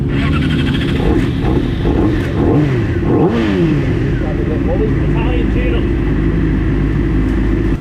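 A 600cc racing motorcycle revs loudly in the paddock at Southern 100 road racing, its engine note rising and falling continuously throughout, with nearby voices talking over it.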